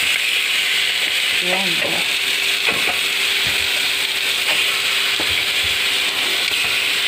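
Pork ribs (buto-buto) sizzling and frying in a pot for Filipino nilaga, a steady loud crackling hiss throughout with a few clinks of stirring, under a brief spoken voice.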